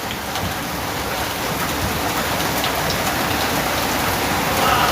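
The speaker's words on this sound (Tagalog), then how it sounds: "grabe yung ulan" Heavy rain pours down steadily, a dense, loud hiss of drops hitting surfaces with no pauses.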